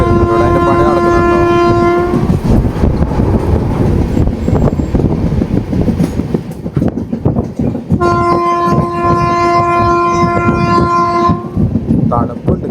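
Himsagar Express running in India near Jammu, with a long train horn blast, then a rumbling, rattling run of rolling wheels, then a second long horn, all loud and close with no talk.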